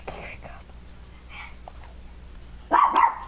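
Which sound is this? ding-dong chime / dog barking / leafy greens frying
dog barking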